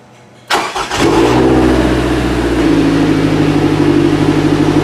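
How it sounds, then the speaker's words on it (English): A Toyota MR2 Spyder engine cranks and fires with a loud, close burst, then settles quickly into a steady, strong idle. "Now we're going to start the engine"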